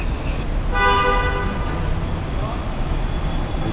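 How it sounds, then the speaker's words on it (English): Car horns blare and honk repeatedly amid busy, chaotic traffic near a marina, one long loud toot standing out over a continuous roadway rumble, with scattered background chatter. "Gosh, so much honking"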